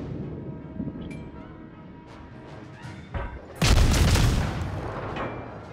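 Booming naval gunfire from the destroyer Shimakaze in World of Warships: a sharp blast, then a louder heavy salvo that rolls on into a long rumbling echo.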